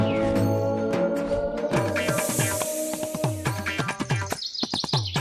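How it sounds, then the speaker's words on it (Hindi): Baby birds chirp in a rapid flurry of high, bright tweets in a comedy sketch, with music and other sounds running underneath. "चिड़िया के बच्चों की आवाज"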